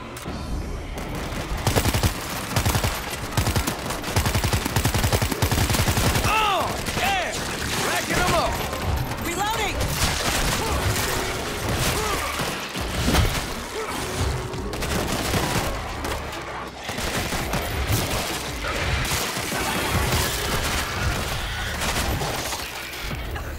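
Sustained gunfire in the video game World War Z Aftermath in a New York chapter, dense rapid bursts and shots mixed with chaotic battle noise, under shouted talk.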